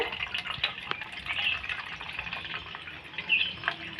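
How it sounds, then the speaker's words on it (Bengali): Water drained from grated potatoes runs through a kitchen sieve, giving a soft, continuous trickle with light splashing drips, close by and with no talking. "এখন একটা ছাকনি নিয়েছি এই ছাকনি দিয়ে আমি ছেঁকে নিব এই দেখুন সহজেই আলুর জলগুলো পড়ে যাচ্ছে"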